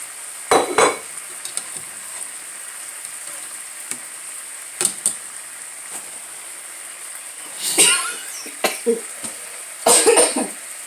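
Several bursts of coughing set off by spices in cooking, a single cough then clustered fits, break out over a quiet background hiss, close and fairly loud.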